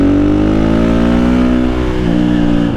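A Honda CRF450R supermoto motorcycle engine revs hard and close, its loud buzzing note climbing steadily in pitch before dipping and picking up again near the end.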